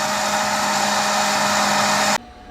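An Ikawa sample coffee roaster runs steadily while roasting, giving a loud, even fan-like whoosh with a low hum that cuts off abruptly near the end.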